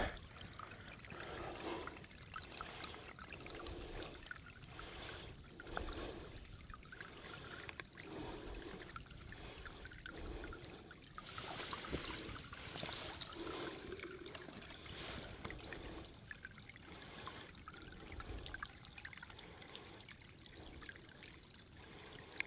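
Water from a stream trickles into a bag being filled by scooping, a faint, soft burbling that runs continuously in the open air, quiet and distant-sounding with no speech.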